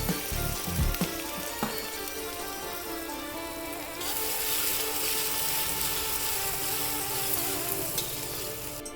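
Onions fry in a pan for a village-style kallehuli, giving a steady, dense sizzle that swells louder partway through, with a few stirring clinks and no talk.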